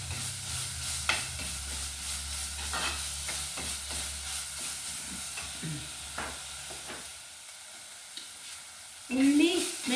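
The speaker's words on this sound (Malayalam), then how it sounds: "എല്ലാം കൂടെ നന്നായിട്ടൊന്ന് വഴറ്റിയെടുക്കാം" Chopped shallots, onion, garlic and ginger sautéing in a pan for fish curry, a steady close sizzle with intermittent stirring scrapes and a louder hiss near the end.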